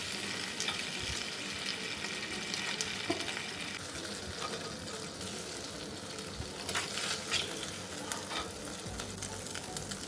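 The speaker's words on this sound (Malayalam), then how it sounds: "അപ്പം ഞാൻ ജസ്റ്റ് ഒന്ന് ഷാലോ ഫ്രൈ ചെയ്ത് എടുക്കുവാണേ" Eggs shallow frying in oil for an egg and potato gravy, giving a steady, continuous sizzle with crackling pops throughout, close and moderately loud, with no talking.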